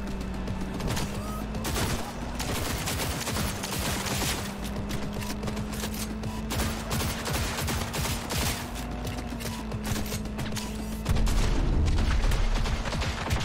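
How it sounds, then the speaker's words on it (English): Sustained gunfire in Cyberpunk 2077, dense rapid shots and booms running continuously over a low steady hum, growing louder near the end. "we're shooting now"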